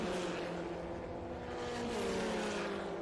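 Formula F1600 race cars sweep through a turn at Watkins Glen, a steady distant engine drone with a rising and falling pitch under a faint, continuous background roar.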